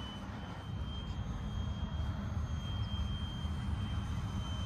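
A Freewing MiG-15 electric RC jet on a 3S battery flies on its maiden flight at a park, giving a steady, continuous whoosh of ducted fan and wind noise that holds at moderate distance throughout.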